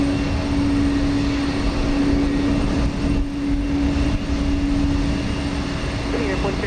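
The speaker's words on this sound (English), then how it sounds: "Dual takeoff here" Two airliners take off together at Houston Intercontinental, a loud, steady roar of jet engines that holds throughout, with a voice talking over it.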